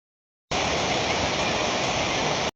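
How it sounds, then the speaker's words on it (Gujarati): Water spilling over a full farm check dam in rural Gujarat, a dense steady roar of rushing water that holds constant and loud throughout, with no voices. "મારી પાસે આ ખેતરી ડેમ સલકાઈ ગયો છે આખો"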